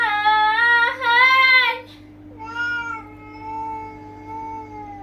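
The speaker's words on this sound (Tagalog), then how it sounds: "Ang tibak ng pusa'y dirinig sa kalawakan." A cat meows loudly in a long, wavering, drawn-out caterwaul, then carries on in a softer, sustained yowl, close and alone over a steady low hum.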